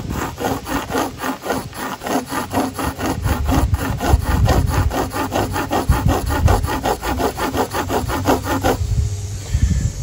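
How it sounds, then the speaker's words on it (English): Yucca-fibre cordage for a bow-drill bowstring is rubbed hard to burnish it, making a fast, even train of rasping strokes that carry on for most of the clip before stopping abruptly. "I like to burnish it, which kind of evens out the weave and stretches it out a little bit."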